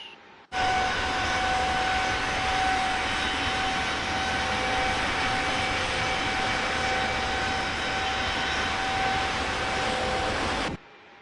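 Airliner engine of an A320neo in Microsoft Flight Simulator 2024: a loud, steady jet drone with a constant whining tone runs unbroken for about ten seconds, starting and stopping abruptly.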